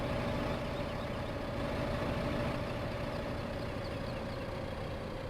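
A small tractor's engine in Farming Simulator 2015 drones at a steady idle-like rumble, continuous and moderately loud with no change in pitch, while it pulls a load in hilly Great Smoky Mountain country.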